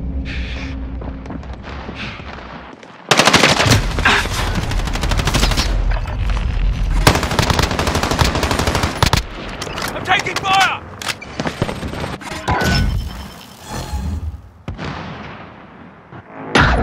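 Gunfire in Call of Duty: Modern Warfare, sustained loud rapid shots and bursts mixed with explosions and battle noise, with radio-style voices heard over the fighting.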